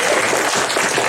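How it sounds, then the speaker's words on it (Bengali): An audience at a Saraswati Puja gathering claps together for a cook, a dense, even burst of applause heard close and loud throughout, without voices. "তো সুরঞ্জনের জন্য একটা হাততালি।"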